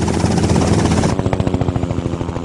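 A helicopter in an animated Simpsons scene: dense rotor thumping at first, then a sharp, evenly spaced chopping beat that stays loud and close.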